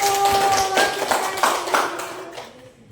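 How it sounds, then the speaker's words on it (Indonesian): A classroom of students claps for a group after their religious education presentation, a burst of many hands that gradually fades out, with a few scattered voices near the start. "tepuk tangan untuk kelompok 1"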